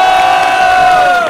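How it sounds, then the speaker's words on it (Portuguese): A crowd at a Brazilian street rap battle roars and cheers loudly, with sustained shouting and a strong tonal whoop or siren-like voice sliding slightly downward, dense and close throughout. "Palmas pra batalha, família!"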